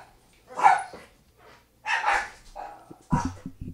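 Dog barking in three separate bursts, each a sharp woof or yip spaced about a second apart, fairly close and moderately loud against a quiet room.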